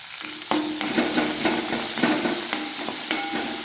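Chopped onion and crushed green chilli fry in a hot pan with a steady sizzle and hiss, punctuated by repeated scraping stir strokes of a spoon, close and moderately loud with no talking.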